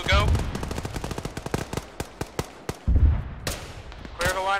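Heavy DShK machine gun fire in the Arma video game rattles out in rapid bursts of loud, sharp reports, with a voice speaking briefly between volleys.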